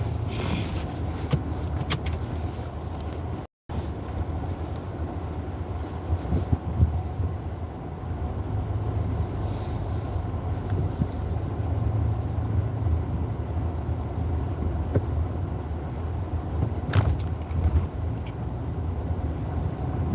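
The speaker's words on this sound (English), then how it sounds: "I will be on here for 45 to 50 minutes driving to work" A car drives along the road on the way to work, a steady low road and engine rumble inside the cabin with occasional small knocks and clicks and one brief dropout, no talking.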